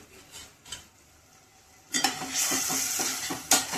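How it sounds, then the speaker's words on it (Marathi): Gram flour dumpling curry stir-fried on full flame, quiet scattered taps that suddenly become a loud sizzle with repeated spoon scrapes against the pan, close by and without speech. "ते टाकल्यावर आपल्याला फुल आचेवर परतायचे आहे"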